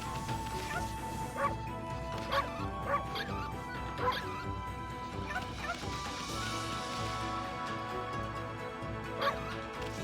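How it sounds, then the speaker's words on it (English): A dog barks repeatedly in the video game Okami HD, short sharp yaps spaced irregularly over a steady bed of game music and ambience, with no talking. "I hear a dog somewhere."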